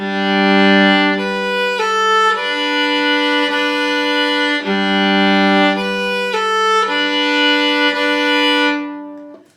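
A violin plays sustained double stops, two notes sounding together in slow, smooth bowed changes, loud and close, with no talking.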